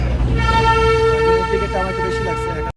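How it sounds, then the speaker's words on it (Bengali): Darjeeling's heritage toy train rolling along, heard from inside a carriage: a loud, steady low rumble with a sustained tonal whistle or horn-like drone running through the whole stretch, then a sudden cutoff. "আমরা এখন দার্জিলিং এর টয় ট্রেনের ভেতরে।"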